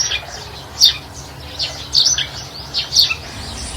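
Cockatiel calls: a handful of short, bright chirps spaced irregularly across a few seconds, fairly close and clear over a soft steady background hiss.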